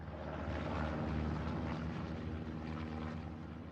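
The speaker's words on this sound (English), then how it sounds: "Recon plane going up." A recon plane drones overhead in a tank battle video game, a steady propeller engine hum that swells slightly and holds at a moderate distance without any voices.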